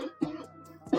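A couple of sharp, close coughs in quick succession, with a brief pause between them.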